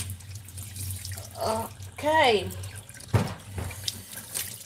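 Tap water runs into a sink while dirty dishes are washed by hand, a steady hiss with splashes and clinks, as a person says a word partway through.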